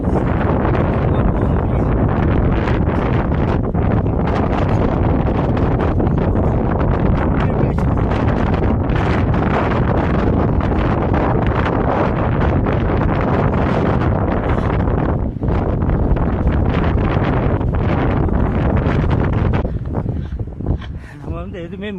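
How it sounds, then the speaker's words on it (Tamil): Powerful wind on a mountain roars and batters the microphone continuously for a long stretch, loud and turbulent, with voices faintly mixed beneath the gusts. "மேலே பார்த்துங்க, காற்று அப்படியே தள்ளுது வெளியே"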